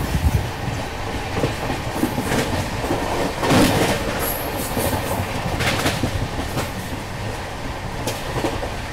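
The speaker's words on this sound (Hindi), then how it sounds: "यार 130 की रफ्तार में डबल डेकर ट्रेन चल रही है" India's only double-decker train runs at 130 km/h with a steady, loud rumble and rattling clickety-clack of wheels on rail heard from inside a carriage, with occasional faint squeals and no talking.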